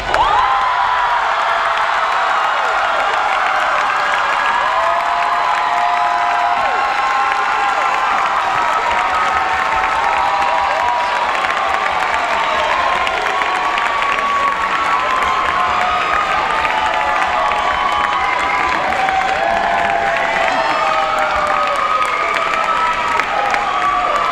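A large audience bursts into sustained applause and cheering for the first-place winners, with dense clapping, whoops and shouts filling the room at a steady, loud level from start to finish.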